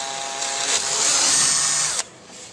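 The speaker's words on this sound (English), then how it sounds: "Once the drill bit has started boring your hole and you get a good bite, then you can go a little faster." A power drill whirs at high speed, its pitch rising briefly as it bores into a plastic kayak deck, then cuts off abruptly leaving quiet.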